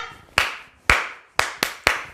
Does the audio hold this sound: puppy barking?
no